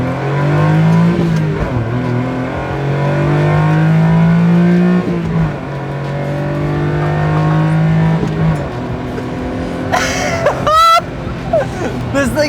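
A small JDM sports car driven hard, its engine revving loud and close through repeated rising and falling pulls with shifts, a brief sharp squeal near the end, while a person talks over it.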